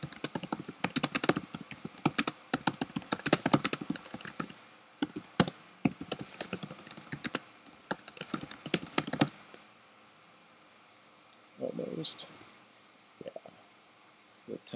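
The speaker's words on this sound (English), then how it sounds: "typing is very lagged as well." A computer keyboard clatters in quick, irregular bursts of close key taps that stop abruptly partway through, leaving near silence broken only by a few soft thumps and scrapes.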